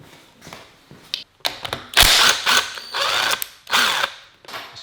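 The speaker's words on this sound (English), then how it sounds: "I just like to use a regular wrench, regular ratchet, and take my time." A hand ratchet wrench works bolts loose during a Honda Civic engine teardown, giving bursts of rapid clicking pawl sounds separated by short pauses and metallic taps, close and clear.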